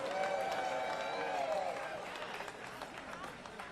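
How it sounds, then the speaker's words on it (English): An audience at a Los Angeles mayoral campaign event claps in a round of applause, the loose patter of many hands sitting under a speaking voice and slowly fading toward the end. "Give yourselves another big round of applause."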